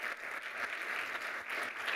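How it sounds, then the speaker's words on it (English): Audience applause at a developer tech presentation, a steady wash of clapping hands that holds at an even level for two seconds with no voices over it. "can I just get a quick round of applause"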